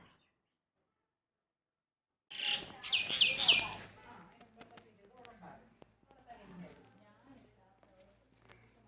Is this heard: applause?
no